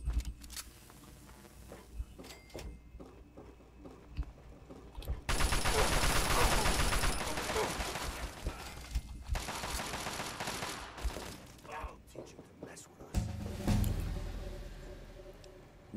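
Gunfire in the video game Fallout 3: a loud, dense burst of shooting from about five seconds on, with scattered shots, rumbling impacts and a later heavy blast among quieter game noise.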